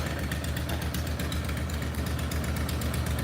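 The engine of a three-cylinder four-wheel-drive tractor runs in a loud, steady low rumble, close by and without a break.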